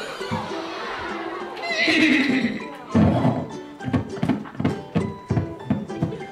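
A person imitates a horse's whinny with a rising, shaky vocal cry, followed by a series of rhythmic thumping sounds like hoofbeats.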